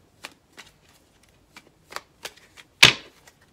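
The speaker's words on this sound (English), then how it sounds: "We're going to draw another 5 cards." Tarot cards are shuffled by hand before a draw: a handful of quick, soft riffles and taps close to the mic, ending in one louder, sharper flutter, with quiet between them.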